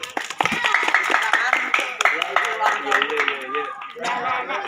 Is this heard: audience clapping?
yes